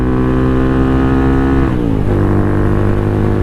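A Venom X22R motorcycle being ridden: a loud, steady buzzing engine drone with a clear shift in pitch partway through as the revs drop and settle, close and continuous, no voices.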